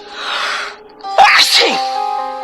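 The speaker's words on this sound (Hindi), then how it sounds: "उसे बड़ी जोर की छींक आई" One loud, close sneeze in a dusty room bursts out after a brief breathy intake, sharp and forceful, then trails off into a faint tone, used as a horror-story sound effect.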